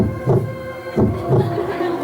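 A deep, muffled heartbeat thumps in a steady double-beat rhythm, three pulses close and prominent with no other sounds.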